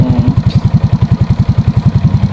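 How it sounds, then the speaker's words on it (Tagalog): A motorcycle engine idles close by after an oil change, a steady loud low throb with rapid, even pulses and no voices over it. "papandarin ko muna ng 3 minutes"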